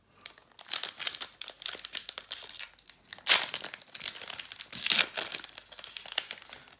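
Someone tears open the foil wrapper of a Pokémon Radiant Destinies booster pack close up. Crisp crinkling and rustling build into sharp rips, with two louder tearing bursts in the middle.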